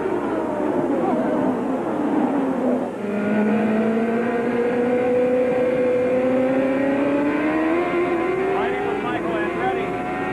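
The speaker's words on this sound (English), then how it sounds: "Jen Swinthal, the IndyCar starter, has the green flag in his hand as he steers up toward that 13th and final turn. And here they come." IndyCar race cars at the 1995 Miami race roar past after the green flag start, a loud, continuous engine drone with rising and falling pitch as several cars accelerate, heard close under commentary.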